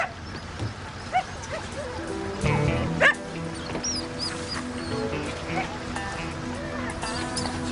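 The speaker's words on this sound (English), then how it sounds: "That's two dogs barking in there." Two dogs barking from inside a closed box, muffled yips and whimpers scattered through the clip under a man's speech, with a louder burst near the middle.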